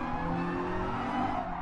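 A Datsun 240 wide body on racing slicks in a racing game brakes hard and late, a sustained tire squeal over a humming engine, steady and fairly faint.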